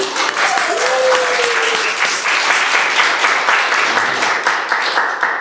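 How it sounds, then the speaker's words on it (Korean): A church congregation at a Sunday worship service applauds latecomers with sustained, dense clapping that fills the room and stays loud throughout, while a voice briefly speaks over it near the start. "꼭 여러분 우리 늦게라도 오신 분들 위해서 박수 쳐줘요"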